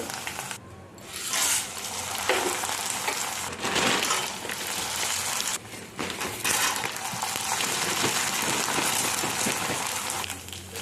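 Corn flakes mixture deep frying in oil, a steady bubbling crackle that swells and dips with occasional clatters of a utensil in the pan, close and fairly loud throughout with no talk.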